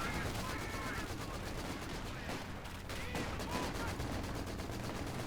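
In the Company of Heroes 2 battle game, twin Vickers machine guns rattle out dense, continuous bursts of fire amid other distant gunfire and battle noise, with a voice talking over the top.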